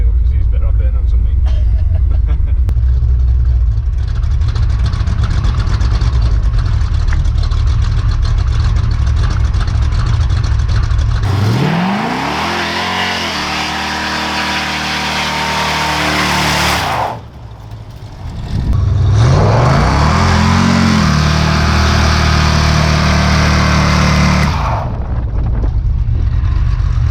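A roof-chopped Ford Consul hotrod with a V8 roars continuously at high revs through a smoky burnout. The loud, steady engine note dips briefly and then surges back, and voices are mixed in.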